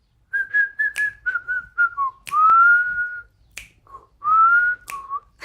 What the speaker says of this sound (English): Okay, actually, snap and whistle.